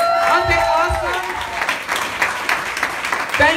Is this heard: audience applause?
yes